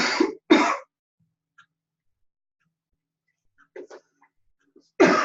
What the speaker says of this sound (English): I have a little cough going here